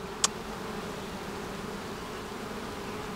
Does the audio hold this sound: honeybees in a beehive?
yes